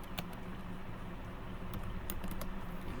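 Quick keystrokes on a computer keyboard, a light irregular clatter of taps over a steady low room hum, close and fairly faint.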